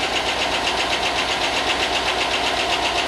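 Chevy 5.3 LS V8 from a 1958 Apache donor truck running after a long idle spell, a loud, steady close idle with a rapid ticking knock throughout.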